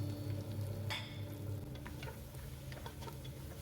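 Onions frying in a pan while being stirred, giving a steady soft sizzle under a low background hum, with one brief scrape of the utensil near the start and quieter stirring taps after.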